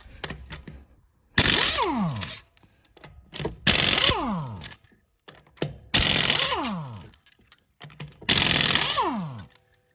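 Air impact wrench driven by an 8-gallon compressor through standard steel Husky fittings, loosening car lug nuts torqued to about 100 foot-pounds: four loud hammering bursts, each about a second long, with short pauses and clanks between them.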